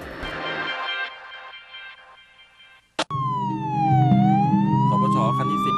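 Ambulance siren in dense city traffic, first a fading wail, then after a sharp click a loud, close siren sweeping down and back up over engine rumble.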